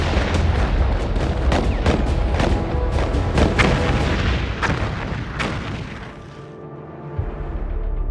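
Massed artillery barrage of over a thousand guns firing at once, a dense continuous roar of overlapping booms with sharp cracks standing out, loud and relentless, easing slightly near the end before another thump.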